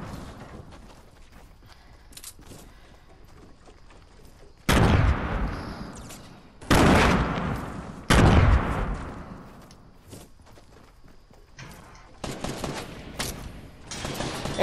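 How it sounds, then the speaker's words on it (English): Explosions and rapid gunfire in the battle-royale video game Fortnite, with three loud broadband blasts around the middle and bursts of shots near the end, over a steady game background. "Look out! Grenade!"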